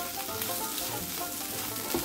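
Restaurant-style potato 65 (aloo 65) sizzles in a pan as coriander leaves are mixed through, giving a soft, continuous frying crackle with faint stirring and no talking.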